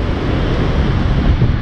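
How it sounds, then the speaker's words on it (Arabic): Rough sea waves surge and crash against a seawall near the Hassan II Mosque, a loud, close, continuous roar of churning water mixed with heavy wind buffeting. "غادي يضرب الموج غادي يضرب مع الحيط مع الحيط"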